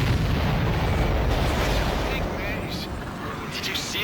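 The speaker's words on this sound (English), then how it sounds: "Did you see that explosion?" Explosions and rumbling gunfire in the aerial combat video game Ace Combat 7, a dense, continuous roar of blasts and low booms filling the whole stretch, loud and close, with a voice speaking faintly over it.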